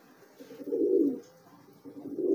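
A feral pigeon cooing up close, two low, throaty rolling coos separated by a short pause, with little else around.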